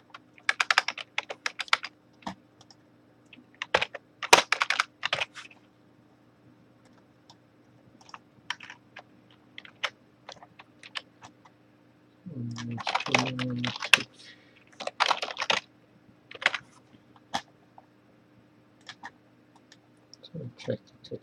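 Typing on a computer keyboard during a live programming stream, bursts of quick clicking keystrokes separated by pauses, close and fairly crisp, with a person talking in a brief stretch midway.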